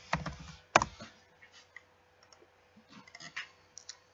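Bursts of keystrokes on a computer keyboard typing a domain name, quiet and close, with a couple of sharper clacks early and scattered taps after.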